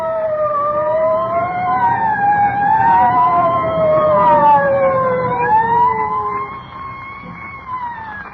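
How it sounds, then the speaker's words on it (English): Several emergency vehicle sirens wail at once, their overlapping rising and falling tones loud and close, then easing slightly toward the end over a low traffic rumble. "I don't like the sound of them sirens"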